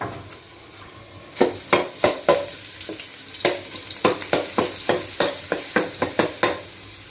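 Rhythmic scraping and stirring as curry paste is stir-fried in a little hot oil in a pan, with an underlying sizzle, a steady series of sharp strokes after a quiet start.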